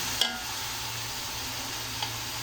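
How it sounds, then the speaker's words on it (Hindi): Boiled black chickpeas frying in oil for chana pulao, a steady soft sizzle with two brief clinks of a stirring spoon against the pot, no talk. "हम इसको अच्छे तरीके से चलाएँगे, ताकि अच्छे तरीके से ऑयल में जो है हमारे फ्राई हो जाए"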